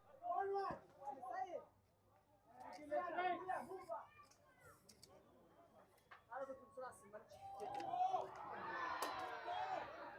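Spectators at a field hockey club championship semi-final, Hippo Valley against Sharkia, murmur and shout in waves, swelling into a loud collective ooh near the end.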